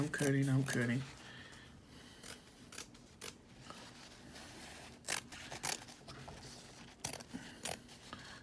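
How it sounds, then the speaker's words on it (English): Scissors snip through the fabric of a garment's side seam, producing a series of sharp, crisp cuts spaced irregularly across the clip, fairly quiet and close, with a brief voice at the start. "So I'm cutting."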